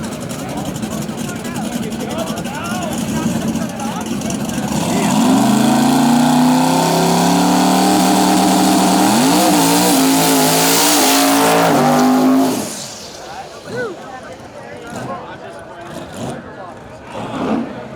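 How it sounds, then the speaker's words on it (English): A hydrolocked drag race car engine revs loudly while spitting a lot of fuel, a strained droning roar that holds for several seconds before cutting off abruptly, with crowd noise and voices continuing faintly afterward. "Oh, he hydrolocked the motor. All that fuel spitting out, just hydrolocked it"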